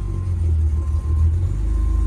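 A BMW 135i engine idles steadily just after starting, a loud, close, continuous low rumble with a faint hum, heard alone without talk.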